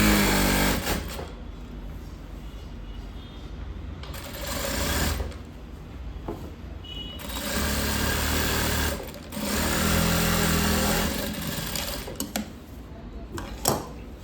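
A sewing machine runs in several bursts of stitching on chudidar lining at a tailoring shop, loud and close, with brief pauses between runs.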